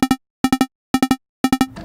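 A step sequence from the Native Instruments Massive synthesizer plays short, bright plucked notes in repeating groups of two and three, with even gaps between groups, ending in a brief noisy tail.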